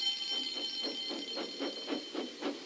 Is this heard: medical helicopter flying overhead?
no